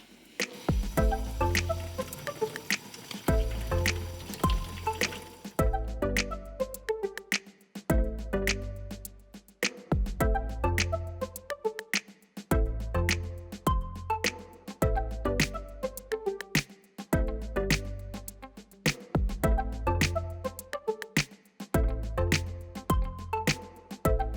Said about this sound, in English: rinse through the roots and rinse all of the dirt off the roots